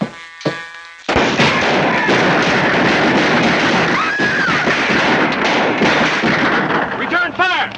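Heavy, continuous gunfire and booming blasts from a 1954 film shootout fill the scene, dense and loud after a brief opening of thumps, with shouting voices breaking through near the end.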